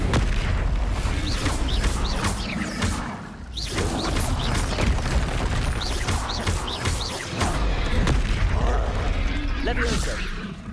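Fire spell bursts cast in the video game Hogwarts Legacy, a busy run of loud booming blasts and crackling impacts over roughly eleven seconds, with voices shouting spell names over the combat.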